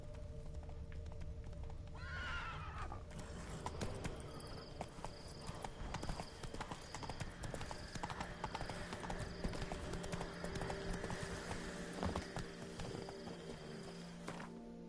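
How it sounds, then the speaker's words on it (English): Horse hooves clip-clop at a gallop with repeated neighs and whinnies in a video game, the steady hoofbeats running throughout over an ambient game soundscape. "Run, Roach"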